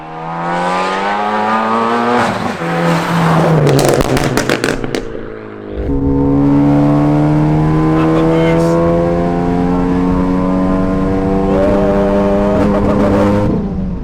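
Loud, straight-piped, methanol-injected Ford Focus ST engine pulling hard in fifth gear, its rising harmonic whine climbing steadily toward the redline, broken by sharp crackling pops and a brief dip before building again, close and sustained.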